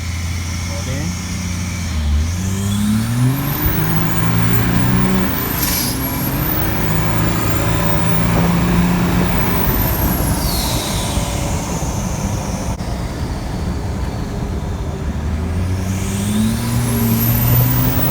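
A Land Rover Defender with a converted BMW M57 diesel engine and turbo drives along, its engine note rising and falling through repeated boosted pulls with a whistling turbo sweep, loud and close, while a voice talks over it.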